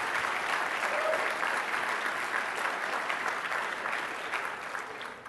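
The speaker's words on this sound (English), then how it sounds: "Give these guys a big round of applause" An audience at a speech in Miami breaks into a big round of applause, sustained dense clapping from many hands that fades slightly toward the end.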